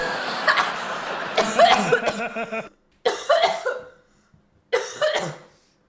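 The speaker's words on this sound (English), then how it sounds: "my laugh turned into a cough and that really fucking hurt" A person laughs, then it breaks into a few rough coughs, in three separate bursts with short silences between.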